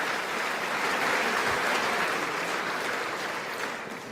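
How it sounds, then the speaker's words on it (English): Sustained, dense applause fills the US Congress chamber, a broad even roar of many hands clapping without a pause. "Yeah, a lot of applause."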